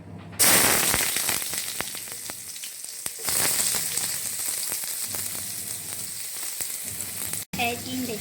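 Onions hit hot oil left from frying prawns for a Malaysian prawn sambal, setting off a loud, continuous close sizzle with occasional stirring clatter and a brief break near the end.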